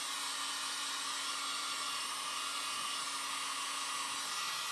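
A hair dryer blows steadily on wet watercolor paint, a constant close whir with a faint tonal hum, running alone without pause.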